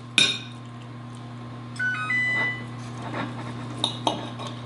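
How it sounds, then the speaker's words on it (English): A knife cuts into cooked steak on a plate, giving a few sharp metallic clinks and short scraping strokes against the plate, close and fairly quiet over a low background hum. "Let me cut into the steak a little bit."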